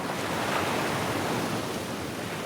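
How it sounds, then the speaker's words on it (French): A light breeze and gentle lapping waves on a blue Tahiti lagoon in French Polynesia, a soft, steady wash of water and wind noise with no voices. "une légère brise souffle sur le lagon bleu"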